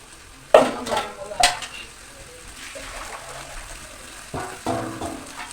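Water poured from small aluminium cups into rice frying with garlic and cardamom for biryani: two sharp metallic clanks open onto a steady close sizzle that swells into a louder, rougher hiss near the end, with no talking.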